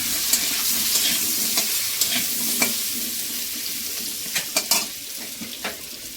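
Potato pieces frying with turmeric in an oiled pan, a steady close sizzle broken by repeated scraping clicks of a spatula stirring, some in quick clusters.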